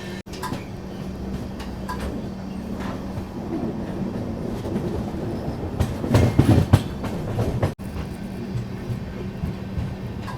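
Pune to Kanyakumari Express rolling into Yerraguntla station, a steady loud rumble of wagons with rhythmic wheel clatter on the rails and a brief swell of heavier clanking midway, with no voices.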